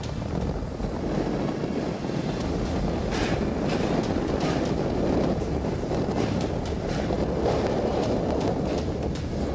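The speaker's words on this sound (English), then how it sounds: "Spectacular view of train gliding over sea on the dangerous Ramazawaram-Pamban Bridge." A train rumbles steadily across the Pamban sea bridge in a continuous roar, with gusts of sea wind buffeting the microphone throughout.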